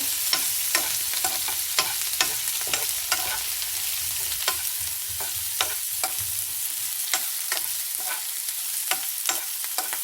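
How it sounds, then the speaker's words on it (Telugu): Tempering spices frying in hot oil for a carrot fry, with a steady close sizzle and repeated sharp scrapes of a spoon stirring the pan throughout. "దోరగా వేగనిట్టు తాలింపు"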